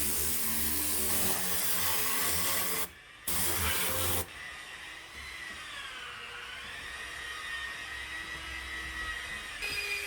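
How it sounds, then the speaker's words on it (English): A loud pressurized hiss of a spinning spray tool blowing degreaser blasts, cuts out briefly, then resumes before dropping to a softer whirring spray with a wavering tone. "this tool right here, which blows this same product, like a degreaser, from that, and it spins as you spray"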